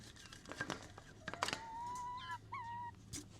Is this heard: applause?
no